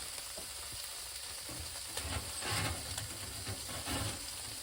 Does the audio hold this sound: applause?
no